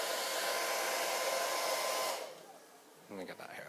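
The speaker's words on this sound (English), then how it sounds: "Now can we talk about this blow dryer?" Touch-screen blow dryer with low, medium and high temperature settings running in a steady loud whoosh for about two seconds, then switching off, followed by a brief voice.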